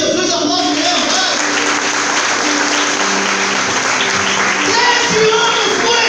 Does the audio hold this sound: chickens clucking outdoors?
no